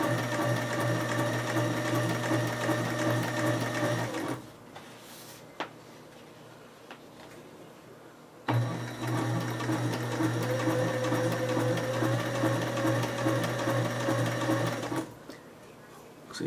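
A sewing machine stitches a mini bike seat cover freehand. It runs in two loud, steady bursts of rapid stitching, each about four to six seconds long, with a quieter pause between them.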